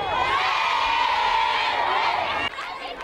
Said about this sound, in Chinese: 人们挥舞着中马两国国旗，载歌载舞，热烈欢呼，尽情表达对中国人民的深厚友情。